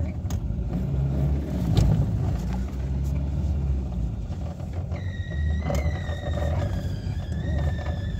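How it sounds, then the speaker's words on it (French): A Renault 11 Turbo car engine runs steadily up close with a continuous low rumble, while faint tonal whines rise and fall near the end. "Elle tourne impeccable cette voiture, sans déconner."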